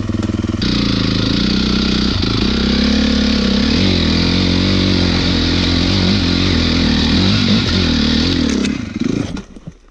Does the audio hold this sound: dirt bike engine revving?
yes